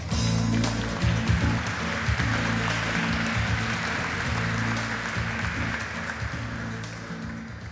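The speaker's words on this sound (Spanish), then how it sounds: "Recibimos con un fuerte aplauso a Juan Carlos Letelier" Audience applause at a science congress welcoming a speaker, a dense, steady wash of clapping held loud throughout, with a droning low hum underneath.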